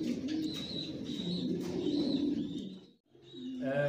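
Pet pigeons cooing at close range, a steady chorus of low, rolling coos that drops briefly into near silence before resuming, with a few higher chirps layered over the top.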